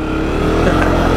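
A Honda CRF250F dirt bike engine revs loud and close, a continuous buzzing roar that swells slightly as the throttle opens.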